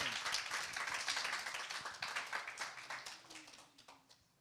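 A church congregation applauds together, a dense burst of many hands clapping that starts full and gradually thins and fades over several seconds, with faint voices underneath.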